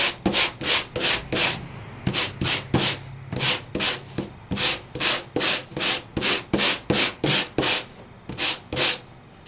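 Rhythmic back-and-forth rasping of sanding across an embossed glimmer sheet in papercraft, about two dozen close, loud strokes in steady succession with no talking.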